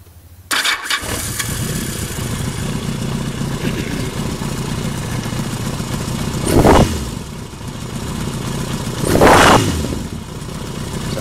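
A warm motorcycle engine starts up and idles roughly, then is revved twice in short, loud bursts a few seconds apart.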